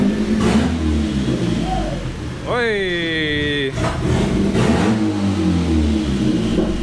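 A Mk2 1.8T engine revs hard once with the exhaust disconnected from the downpipe, rising sharply to a raw, loud howl for about a second before dropping back to a rumbling idle, with a brief shout at the start.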